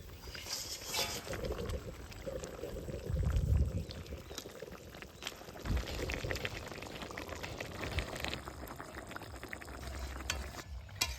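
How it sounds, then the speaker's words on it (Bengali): Curry broth boiling in a pot as fried pabda fish goes in, a steady bubbling and simmer with some splashing and stirring, a heavier plop partway through, quiet and close. "ঝোলের জল ফুটি উঠিয়া এই সময় দিয়ে দিব হচ্ছে ভাজি থোয়া পাবদা মাছ"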